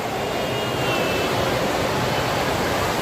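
Loud, steady roar of an indoor waterfall beneath a dome ceiling in Las Vegas, a dense, unbroken wash of rushing water filling the space with no voices over it.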